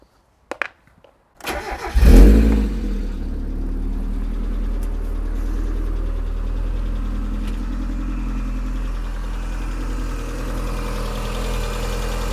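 A Mazda MX-5 engine cranks and starts after a few seconds of quiet, then settles into a steady, low, continuous idle rumble while coolant circulates.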